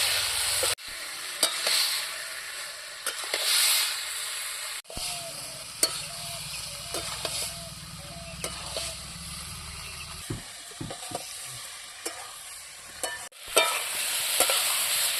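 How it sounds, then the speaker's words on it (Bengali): Crushed ginger and garlic being stir-fried in a pan for a village-style lau and latha fish chorchori, with steady sizzling broken by repeated scraping and stirring strokes close by, no talk. "এখন আমি দু মিনিট ভালো করে এরকম করে কষাবো"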